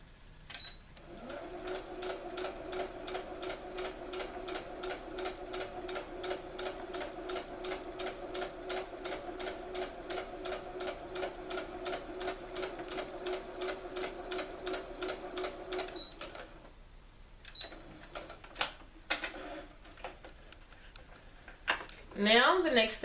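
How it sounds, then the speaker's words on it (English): A sewing machine runs a long seam through fabric, a close, even, rapid ticking whir for about fifteen seconds, then stops; handling clicks and rustles follow. "And I'm going to sew that."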